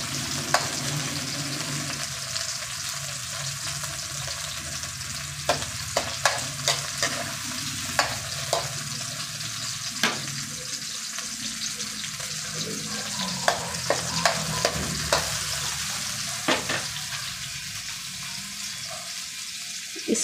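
Tomatoes sautéing in a pan to release their juice, a constant frying hiss with scattered sharp clicks and scrapes of stirring throughout, fairly close and with no speech.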